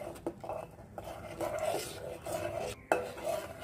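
Rava is stirred into grated bottle gourd kheer in a pan, a faint scraping swish of the spoon repeating in uneven strokes with a couple of light clinks, close and without talk.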